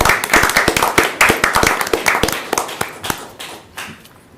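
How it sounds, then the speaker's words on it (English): A small group at a county board of commissioners meeting gives a brief round of applause, a handful of distinct, sharp hand claps in a loose rhythm that thins out and fades within a few seconds. "And I think that deserves a round of applause."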